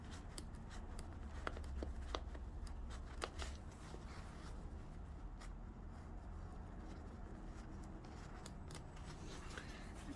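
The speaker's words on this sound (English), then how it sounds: "I want to cut the teeth off a little bit." Small scissors or cutters snipping the plastic teeth off a backpack zipper, quiet irregular clicks and snips close by over a low background hiss, no talking.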